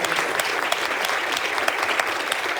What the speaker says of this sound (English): let's give them just another big applause.